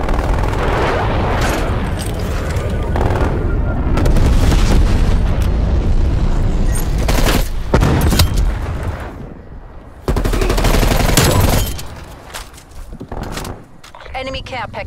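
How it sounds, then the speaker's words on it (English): Napalm strike explosions rage on the Nuketown map in Call of Duty Black Ops Cold War, a long, dense barrage of loud booms and gunfire with bursts and breaks, while voices talk over the chaos. "napalm strike inbound"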